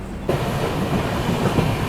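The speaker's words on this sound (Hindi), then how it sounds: "एकदम ऑन टाइम अपनी ट्रेन निकल रही है धर्मनगर रेलवे स्टेशन से।" The Agartala–LTT Mumbai AC Express pulls out of Dharmanagar station with a sudden onset of steady, loud rolling rumble and faint rhythmic wheel clatter.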